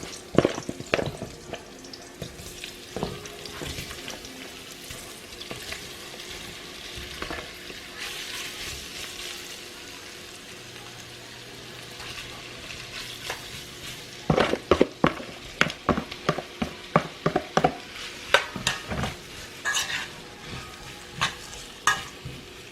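Conch pieces fry in a pot over medium-high heat, a low sizzle broken by repeated close scraping stirs, with clusters of sharper spoon strokes toward the end.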